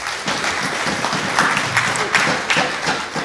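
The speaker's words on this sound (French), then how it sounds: "Applaudissements pour Lorraine." Steady applause from a studio audience welcoming a guest on a French-language café-style game show, sustained and fairly loud for several seconds with dense overlapping claps.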